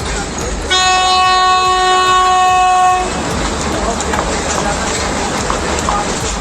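Mountain train running between Mettupalayam and Ooty sounds a loud sustained horn blast for about two seconds over steady rumbling rail noise, which continues after the horn stops.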